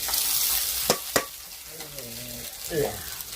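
Poha tipped into a hot pan for batata poha, with two sharp clatters as it drops in, a brief sizzle and stirring, and a faint voice in the background.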